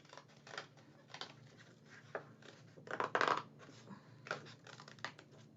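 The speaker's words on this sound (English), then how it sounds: "So you're going to cut your leaves out." Scissors snip through paper while cutting out leaf shapes for a family craft, a series of light, close crisp cuts in irregular bursts with a louder cluster midway.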